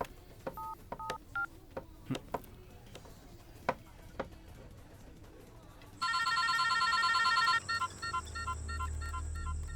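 Several short telephone keypad beeps are punched in at uneven intervals, then a steady electronic ringing tone sounds loudly and continues to the end.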